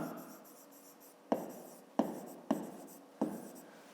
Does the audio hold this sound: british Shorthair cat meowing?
no